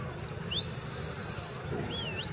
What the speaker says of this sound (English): in my case, I use a whistle